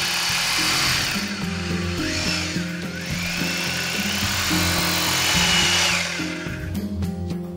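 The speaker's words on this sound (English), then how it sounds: "make holes in the wall using an appropriate drill bit" A power drill with a suitable bit bores holes into a wall, giving a sustained whining drone whose pitch steps up and down as the bit works, loud and close throughout.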